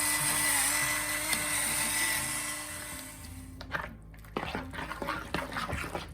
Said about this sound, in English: I have a pepper and a salt grinder. You turn it over, there's batteries in it.